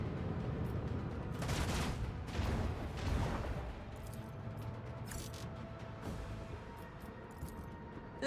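Macro cannons fire in the Warhammer 40K Rogue Trader video game as a dense, continuous barrage of booming shots and rumbling blasts, heaviest in the first few seconds and then steady.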